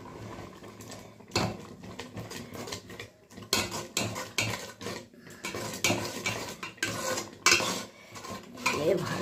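Flour being stirred into mustard, spinach and fenugreek greens in a pan, a spoon scraping and clattering against the metal in busy uneven strokes with faint sizzling beneath, close and fairly loud, no speech.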